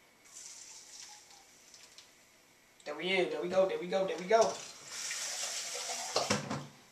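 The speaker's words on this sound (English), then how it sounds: "I'm going to go on and pour it now" Scrambled egg mixture poured from a container into an oiled pan, giving a short liquid splash and sizzle midway, with a nearby voice speaking over and around it.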